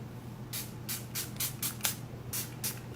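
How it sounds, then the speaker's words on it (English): A makeup setting spray mister fires rapid short hissing bursts at a face, about eight quick puffs in an uneven rhythm, close and crisp over a faint background hum, with no talking. "I'm just going to spray one side of my face with this"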